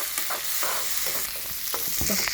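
Prawns stir-fry in a hot pan, sizzling loudly and continuously up close. A few short scrapes and clinks of stirring break through the sizzle.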